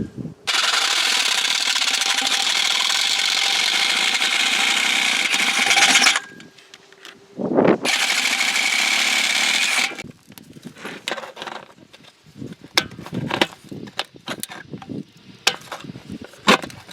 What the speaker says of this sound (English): the hole saw was grabbing, so I'm going to have to use the Sawzall to finish it out